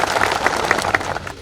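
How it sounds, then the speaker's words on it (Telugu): A crowd at a welcome function for NABARD officials and an MLA breaks into applause, many hands clapping in a lively uneven patter with sharper individual claps, loud and close, no talking. "నాబార్డ్ సంస్థకి మనం అందరం కూడా ధన్యవాదాలు తెలపాలి చప్పట్లతో."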